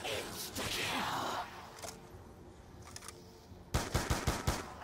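Rapid gunfire in the Call of Duty zombies map Mob of the Dead, played split-screen: a burst of quick, punchy shots at the end after quieter game noise and muffled earlier firing.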